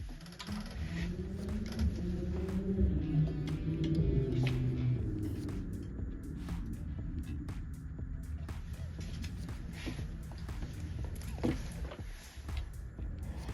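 An embroidery machine's needle mechanism turned slowly by hand during a timing adjustment, giving faint clicking and ratcheting taps over a low rumbling hum, with no talk.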